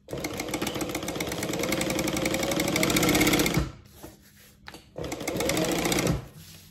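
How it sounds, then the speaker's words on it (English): A sewing machine top stitching around all four sides of a quilted piece, a loud, close, rapid mechanical whir that runs steadily, pauses briefly for a turn, then resumes before stopping. "I'm just going to go all the way around, all 4 sides"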